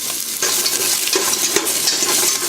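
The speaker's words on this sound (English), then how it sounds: "Got some slices of ginger I'm going to put in there." About half a dozen large ginger slices fry in hot cooking oil, giving a loud, close, continuous sizzle broken by a few stirring knocks, with no speech.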